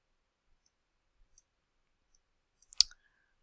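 A single sharp computer mouse click, close and fairly loud, with a few faint ticks before it during a quiet desktop mapping session.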